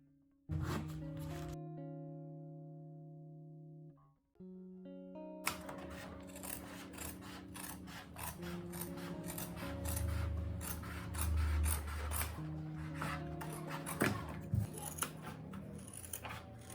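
Scissors cutting pattern pieces out of thick leather for a bag stabilizer, a close, steady run of crisp snipping and rasping blade strokes that continues with a brief pause near the start.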